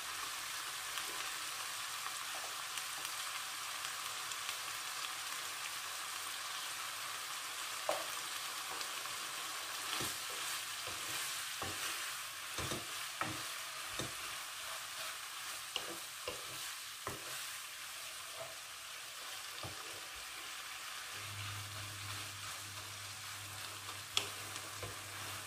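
Onions stir-fry in a pan for a spicy Thai basil clam dish, a steady sizzle running throughout with repeated sharp scraping clicks of a spatula from about ten seconds on, and a low hum joining near the end.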